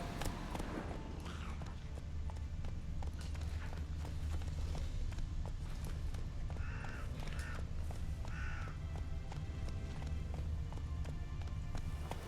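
Rhythmic hoofbeats of a horse galloping in a video game, steady and continuous over a low rumbling game soundtrack, with bird caws and calls scattered through the scene.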